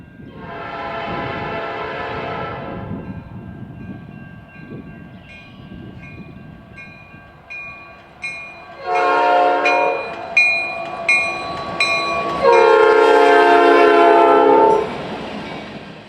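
An Indiana Harbor Belt B-26 freight train blasts its horn in several loud chords, one long, then a cluster of short toots and a final long blast, over the rolling rumble of the train nearby.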